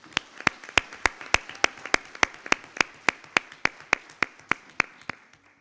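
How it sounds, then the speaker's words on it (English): An assembly audience claps in steady unison, about eighteen sharp, evenly spaced claps in a brisk rhythm, loud and close, with no voices. "So please give yourselves and your networks a round of applause."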